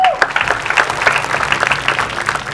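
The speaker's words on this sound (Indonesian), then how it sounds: "Tepuk tangan buat beliau." A comedy-roast audience claps for Pandji Pragiwaksono, a dense burst of applause filling the room, fairly close and steady.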